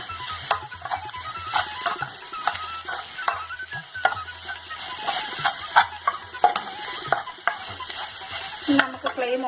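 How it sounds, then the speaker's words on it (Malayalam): A spoon stirs chicken with a spice mix of pepper powder and garam masala in a hot pan. Frying sizzles steadily underneath, and the spoon scrapes and taps against the pan in irregular strokes, with no talking. "ഇത് നമുക്ക് നന്നായിട്ട് മിക്സ് ചെയ്യാം."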